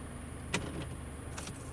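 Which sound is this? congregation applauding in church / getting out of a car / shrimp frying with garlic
getting out of a car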